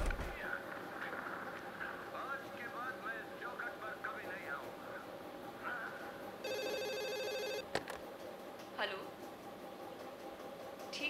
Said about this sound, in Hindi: कामिनी, सलून से फोन था, मैडम ने बुलाया है, चल।